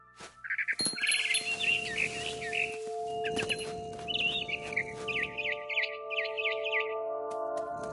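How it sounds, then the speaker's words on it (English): Barn swallow in the video game What Remains of Edith Finch, rapid bright chirps and twitters in quick bursts, close and clear over a steady tonal game ambience, repeating several times. "Then I heard chirping outside my window. It was a barn swallow going back to her nest."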